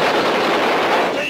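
Gunfire erupting after an order to fire in a 1960s navy comedy battle scene, a dense continuous loud roar of shots over the whole moment.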